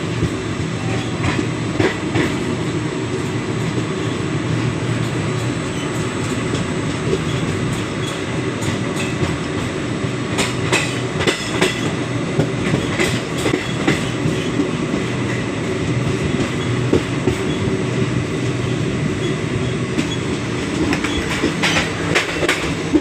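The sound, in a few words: passenger train running on rails, Suri to Surat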